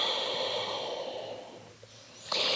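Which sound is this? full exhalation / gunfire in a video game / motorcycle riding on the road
full exhalation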